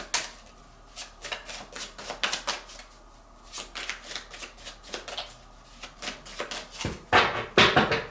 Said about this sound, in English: I'm going to shuffle the Tarot de la Nuit and put one under each card here.